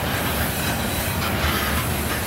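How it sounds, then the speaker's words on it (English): A train climbs the grade out of Benson, Arizona, heading west toward Tucson, with a loud, continuous rumble of wheels and cars and a faint metallic squeal, heard close and without voices. "This train is pulling up the grade out of Benson,"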